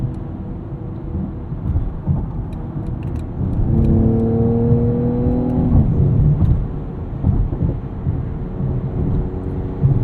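A 2022 Mercedes-AMG GLE 53 cruising in comfort mode at night, its engine giving a low, steady rumble and a smooth rising whir mid-clip from inside the cabin, with no talking.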